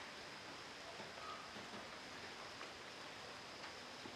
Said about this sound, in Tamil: ஸோ மழை வந்து அடிக்கடி பேஞ்சிட்ருக்கு